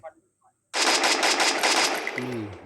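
Sustained automatic gunfire from a shooting video game bursts in loud and dense after a short quiet lead-in, hammering continuously with a rapid chattering rhythm as faint game tones rise near the end.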